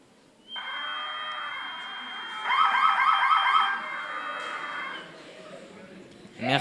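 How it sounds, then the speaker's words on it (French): An amplified Arduino buzzer from a school robotics project sounds a loud, sustained siren-like electronic tone with a brighter warbling stretch in the middle, then cuts off; faint noise follows and something clatters at the very end. "On peut aussi amplifier le son du buzzer."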